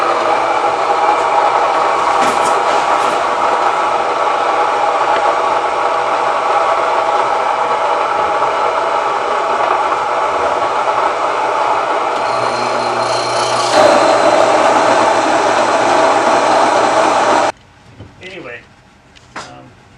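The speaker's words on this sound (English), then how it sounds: "These mills are pretty loud." Grain mills grinding whole grain berries into flour make a loud, steady mechanical roar that runs continuously for about seventeen seconds and then stops abruptly, leaving faint clatter behind.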